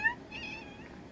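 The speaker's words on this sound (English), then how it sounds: "all day she's been meowing at me to hold her" A house cat gives one short, faint meow near the start, followed by quiet room noise.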